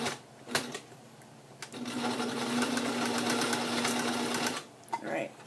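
A serger stitches elastic into a cloth diaper in a steady, rapid whirring run of about three seconds, preceded by a short burst, with a voice talking over it.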